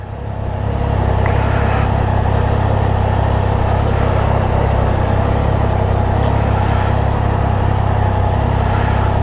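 2024 Triumph Trident naked motorcycle pulling away, a loud close steady engine drone with wind rush that builds in the first second and holds, no talk.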